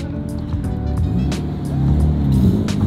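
Close by, a Lamborghini engine rumbles steadily and swells a little as the gas is tapped, with sharp clicks and knocks sounding over the engine.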